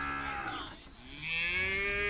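A Friesian cross cow moos loudly and close in Pakistan, one long, drawn-out low call that dips briefly and rises again, filling the short moment on its own.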